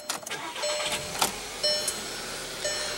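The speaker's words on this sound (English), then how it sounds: "Now what you're hearing there is a 2-liter inline 4-cylinder turbo" A 2015 Volkswagen CC with a 2.0 L turbocharged inline four-cylinder engine started by push button, giving a brief cranking burst that settles into a quiet, steady idle, heard from close by with faint electronic chimes.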